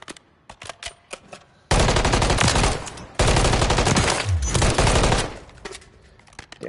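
Rapid, loud automatic gunfire from Call of Duty, with scattered single shots building into two long sustained bursts of close-range fire, then trailing off into more sporadic shots.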